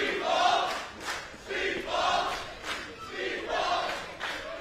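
A Canadian wrestling crowd at the Emergence 2023 event, roaring and chanting in rhythmic swells, a dense wall of many voices rising and falling about once a second.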